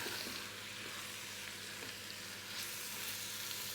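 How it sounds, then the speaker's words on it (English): Indian chicken curry is stirred in a Ninja Foodi, with a steady, faint frying hiss and soft, muffled scraping throughout. "So let's give that a stir."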